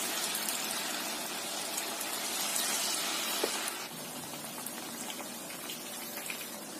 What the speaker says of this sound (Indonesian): Kemudian kita masukkan satu persatu adonan ya, yang sudah kita lumurin tepung. Goreng sampai kering.